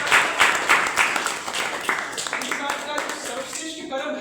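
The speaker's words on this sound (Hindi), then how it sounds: "एक बार पुनः तालियां।" An audience claps at an event about yoga for students, a steady round of applause with individual claps audible and voices faintly underneath.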